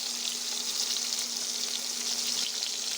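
Prawns coated in salt and turmeric fry in hot oil, giving a steady, even sizzle that crackles on without a break, with a faint low hum running underneath.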